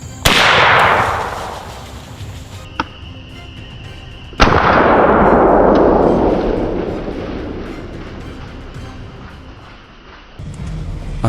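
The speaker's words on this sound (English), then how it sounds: "The only shot flew out, hitting the target perfectly." Hunting rifle shots fired at wild boar in a forest, two sharp loud cracks each trailing into a long rolling echo, with a faint snap between them and another sharp onset at the very end.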